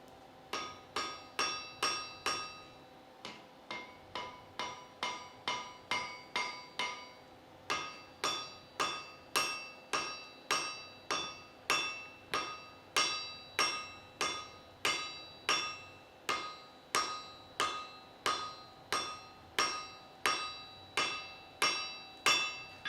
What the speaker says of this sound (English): And here the billet is being welded together.